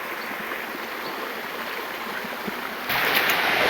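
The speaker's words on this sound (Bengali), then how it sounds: "জাস্ট পাহাড়ের পাথর ঘেমে যে পানিগুলো আসতেছে সেই পানিগুলোই কিন্তু এখন পড়তেছে।" Water seeping from hillside rocks falls as a small waterfall at Ramgarh in Khagrachari, giving a soft, steady rush from some distance that grows noticeably louder and nearer near the end.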